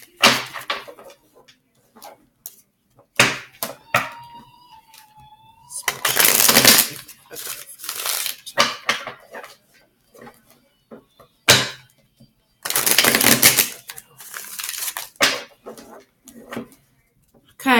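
Tarot cards are shuffled in bursts of crisp, fluttering riffles and slaps, close and fairly loud, separated by quieter handling and small clicks, with a brief tonal squeak early on.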